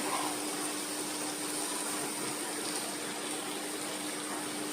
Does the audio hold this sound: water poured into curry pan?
yes